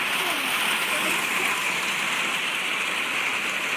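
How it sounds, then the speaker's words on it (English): Rain falls steadily outdoors during a thunderstorm with lightning, a dense, even hiss that stays close and constant throughout, with no distinct thunder clap standing out. "look, it is legit raining and thundering"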